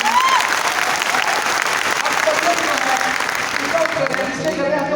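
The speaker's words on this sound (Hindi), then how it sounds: "तालियां सभी नारियों के लिए यहाँ पे" Audience applause fills a leadership development program hall, sustained and steady throughout with dense clapping and some voices mixed in.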